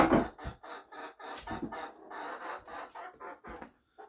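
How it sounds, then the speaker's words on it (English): Chickens cluck and squawk in short, irregular bursts close by, the agitated calls coming one after another with brief gaps between them. "Excuse the chickens"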